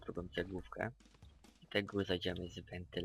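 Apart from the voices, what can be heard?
No distinct noise like a dog, phone or traffic.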